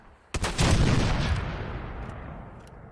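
A robot explodes in Fallout 4 with a sudden sharp blast that swells into a heavy, rumbling boom and then slowly fades away, loud and alone with no talk over it.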